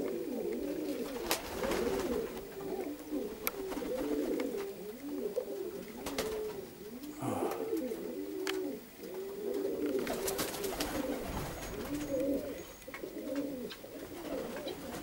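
Perm pigeons coo continuously in soft, rhythmic, throaty rolls, several birds overlapping close by, with occasional faint background rustles.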